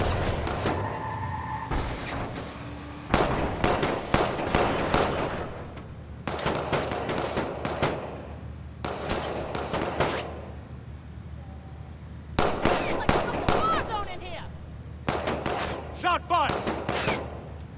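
Bursts of gunfire in a Watch Dogs 2 shootout, recurring in loud clustered volleys with short gaps, mixed with game sounds and shouted voices.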